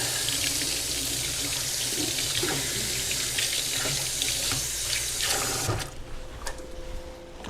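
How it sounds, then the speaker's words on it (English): A kitchen tap runs steadily while hands are washed beneath it, a loud continuous hiss and splash that cuts off near the end, leaving a few drips and faint handling sounds. "I'm gonna wash my hands."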